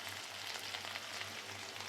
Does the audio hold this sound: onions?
yes